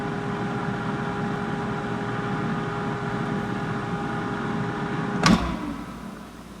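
An air fryer cooking tater tots runs with a steady electric whir and tonal hum, ending in a sharp clunk of the basket near the end, with no talking.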